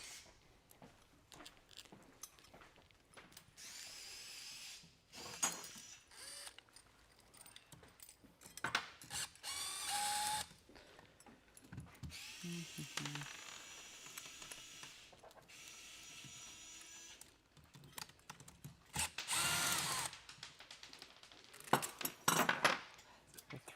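A wrench and metal parts handled while building an FTC robot on a workbench, a close, intermittent run of clanks, scrapes, ratcheting and jangling metal bursts with quieter gaps between.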